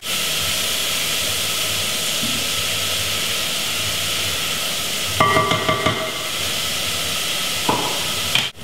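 Chopped onions frying in hot oil for stuffed pasta shells give a steady, close sizzling hiss, with a few clinks of a spoon stirring the pan partway through.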